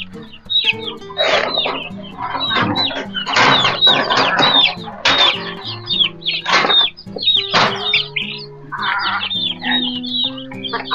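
Chicks being fed in a rural yard in Batangas, Philippines, with a dense chorus of high peeping, clucking hens and brief wing flaps, all close and continuous.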